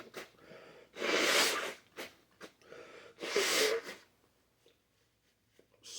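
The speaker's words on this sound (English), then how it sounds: "I'm going to say don't blow your nose on camera." Two loud, forceful nose blows up close, each a rough breathy rush lasting under a second, separated by short sniffs and snorts, with quieter sniffling trailing off at the end.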